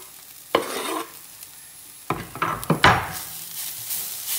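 Mince is stirred into browned onions and garlic in a pan, with a quiet sizzle, one scrape, then a rapid cluster of clattering stirring strokes and a louder sustained frying hiss.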